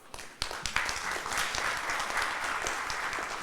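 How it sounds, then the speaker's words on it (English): Audience applause at the opening of the 30th AGM and Biennial Conference of the APF of National Human Rights Institutions, starting with a few scattered claps and swelling into steady, moderately distant clapping from a large room. "Round of applause, everyone."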